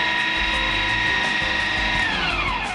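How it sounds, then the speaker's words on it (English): An electric meat grinder grinds bear meat for sausage with a loud, steady motor whine close by, its pitch falling toward the end as it winds down, with no talking. "We'll stop the grinder there"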